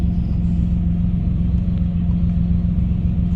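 A 1996 Camaro with the 3800 V6, freshly fitted with new valve lifters, idles warm with a steady, even low rumble that holds constant throughout, close and alone.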